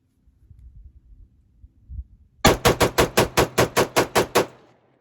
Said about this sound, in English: we're gonna dump here about 11 rounds